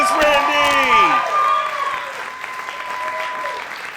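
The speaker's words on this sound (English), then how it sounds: "can we give him another round of applause?" An audience at a storytelling festival claps steadily, starting loud over a spoken voice and cheers, then thinning to scattered applause.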